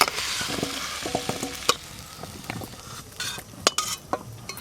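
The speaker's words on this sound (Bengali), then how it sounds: "আলু আর কুমড়ো একটু হালকা করে নেড়ে নিয়েছি," Potato and pumpkin pieces with turmeric fry in oil, crackling softly as a spoon stirs them, with scattered clinks and scrapes against the pan.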